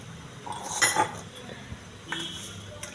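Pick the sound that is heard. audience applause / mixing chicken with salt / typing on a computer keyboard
mixing chicken with salt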